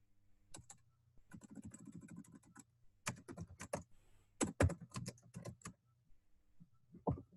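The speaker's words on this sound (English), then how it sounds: "as I'm typing it up" Quiet, close typing on a computer keyboard while writing a classified ad, coming in bursts of rapid key clicks separated by short pauses, with a few sharper taps and no talking.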